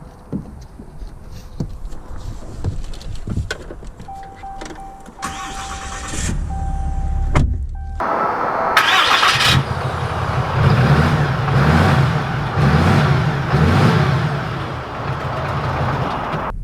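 A 2020 Ram 2500 Big Horn diesel pickup starts up and pulls away, a few clunks and a brief engine turnover giving way to a loud, steady diesel rumble under way, with no talk.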